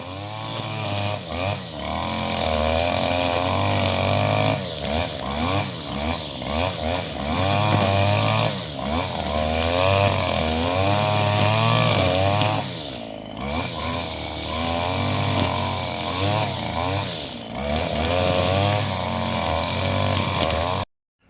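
A motorized brush cutter clears overgrown scrub in a Konkan garden orchard. Its engine whines loudly and close, revving up and down in uneven surges, with a brief dip before it cuts off at the end.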